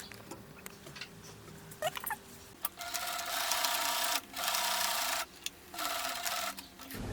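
A sewing machine topstitches along the lining of a pair of pants, running in three steady mechanical bursts of quick stitching after some quiet fabric handling. Fairly faint and close, with no talking.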